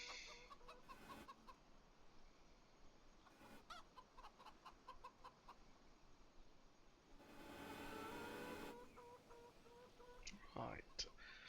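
Chickens clucking in the Farming Simulator 25 farm game, intermittent clucks and rooster-like calls heard at moderate distance over a low steady background, with a louder wash of noise in the middle and a sharper call near the end.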